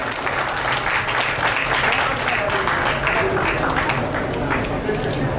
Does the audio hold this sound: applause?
yes